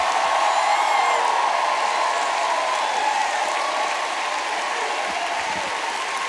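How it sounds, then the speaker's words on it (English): A church congregation claps in praise, sustained dense applause filling the room with scattered cheers and whoops, steady and loud throughout. "I need you to clap and give God praise like it's the end"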